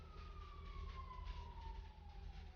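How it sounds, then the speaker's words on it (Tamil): A wailing police car siren sweeps steadily downward over a low vehicle engine rumble in a video game roleplay, loud and continuous with no talking. "போலீஸ் வண்டி சவுண்ட் எல்லாம் இருறா பயமா இருக்குடா"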